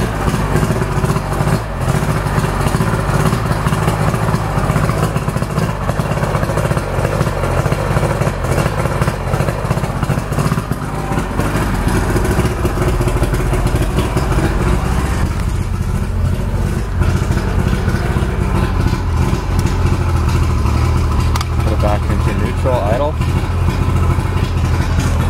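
A 1991 Mariner 75 HP outboard motor on a 1989 Spectrum Fish & Ski boat idles with a steady, loud mechanical drone that runs throughout.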